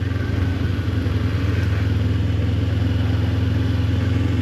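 A motorcycle engine hums close and steady, with a low, even pulsing drone throughout and no clear rise in pitch.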